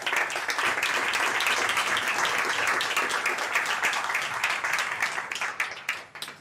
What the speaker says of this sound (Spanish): Os pido otro fuerte aplauso para ellos.